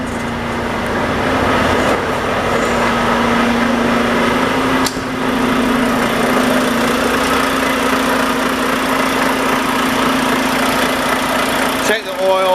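A semi truck sits idling with its air conditioning running, giving a loud, steady, close engine drone with a constant low hum that barely varies.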